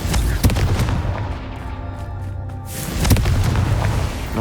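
A Confringo fire spell explodes in Hogwarts Legacy, a loud, full booming blast with a sharp crack early on and a second surge near the end, over continuous rumbling game sound.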